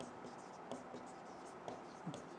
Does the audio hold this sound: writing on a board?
yes